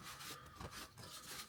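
Steady cloth rubbing of wax into a waxed wooden woodworking piece, a continuous soft scuffing rasp with gentle back-and-forth swells, close and alone.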